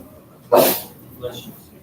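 A single sharp sneeze bursts out in a classroom, followed by a short murmured voice.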